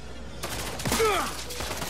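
Gunfire in the Lawbreakers shooter game, a quick cluster of sharp shots and impacts with whizzing tones over about a second, close and fairly loud.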